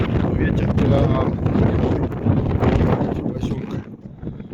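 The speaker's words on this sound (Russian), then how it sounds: "Ветер прям." Strong wind buffets the microphone on a snowy central beach in Anapa by the sea, a loud continuous roar with gusts across the whole stretch.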